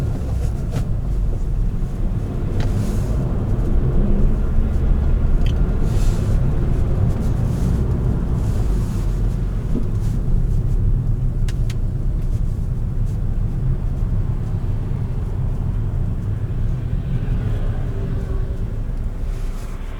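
Steady engine rumble and road noise from inside a manual-transmission car being driven, with the clutch, accelerator and brake worked by feet in different shoes, a constant low drone with small shifts in pitch and no talk.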